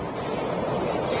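Blue Origin New Shepard rocket's BE-3 engine roaring at full throttle during ascent past Mach 1 on the NS-32 mission: a steady, dense broadband rumble and hiss with no breaks, heard alone.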